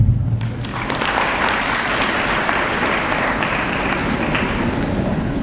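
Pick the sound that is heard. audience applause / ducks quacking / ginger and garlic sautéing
audience applause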